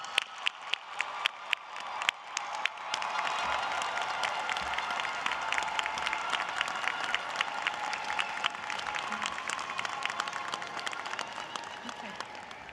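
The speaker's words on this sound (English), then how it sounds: "will all the candidates for the associate degrees please stand up for one more round of well-deserved applause?" At a college commencement ceremony, a graduation audience breaks into sustained applause for associate degree candidates. A few sharp claps come first, then a dense wave of clapping that carries on steadily.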